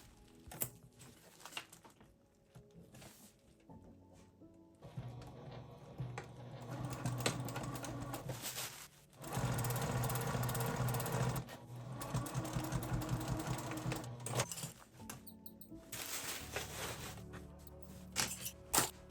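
A sewing machine stitches down the side of a clear vinyl tote bag, its steady mechanical whirring coming in bursts that grow louder and fuller midway, with brief pauses between runs and no talking.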